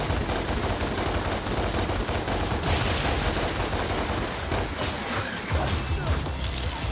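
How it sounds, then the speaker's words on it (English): Dante fires his guns nonstop in Devil May Cry, a dense, loud, continuous barrage of rapid gunshots with crashing impacts layered throughout. "I will stay in the air by shooting my guns upwards"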